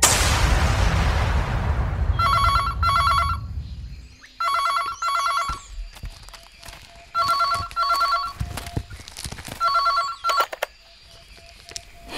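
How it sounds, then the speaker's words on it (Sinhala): Old-style telephone bell ringing in repeated short bursts, separated by pauses and faint background noises, fairly close and clear after a brief noisy start. "නොසිතූ ටෙලිෆෝන් කෝල් එකක් එනවා"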